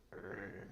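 A tabletop role-playing game player briefly imitates a growl with his voice: one short, rough, throaty rumble, close and moderately loud.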